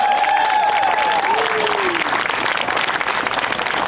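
Loud crowd applause and cheering at an outdoor Pride rally in Portsmouth, sustained clapping with a few whoops rising over it, near and continuous throughout.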